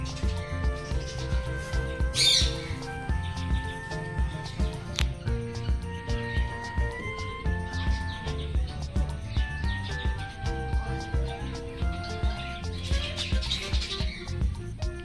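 Many birds chirp and call from aviary cages at Jhargram zoo, which holds golden pheasants and lovebirds; overlapping tweets and whistles layer over steady background noise throughout.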